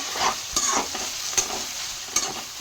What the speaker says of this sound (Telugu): ఆనియన్స్ వేసుకొని ఫ్రై చేసుకున్నాం.